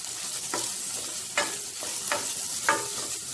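Chicken filling seasoned with pepper powder and coriander powder sautés in a pan, a steady high sizzle broken by several distinct scraping stirs of a spoon at irregular intervals, close and with no voices.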